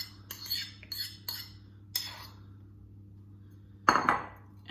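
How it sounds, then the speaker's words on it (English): Beaten eggs are mixed in a bowl for banana bread, and a utensil clinks sharply against the bowl in a few separate knocks. The knocks are spaced apart, with one louder scrape near the end and quiet pauses in between. "But I'm gonna mix my already beaten 2 eggs into a bowl."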